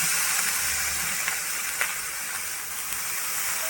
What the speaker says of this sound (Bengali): চিকেনটার উপরে আমি সামান্য একটু জলের ছিটে দেব